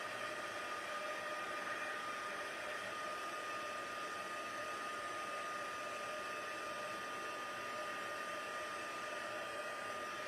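A heat tool used for heat embossing blows with a steady, even whooshing hiss like a hair dryer, continuous and unchanging throughout with no speech.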